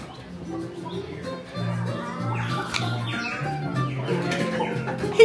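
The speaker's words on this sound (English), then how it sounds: "He has chickens?" Chickens in Toontown at Disneyland cluck and chirp in a busy, steady stream, with a faint voice now and then beneath the flock.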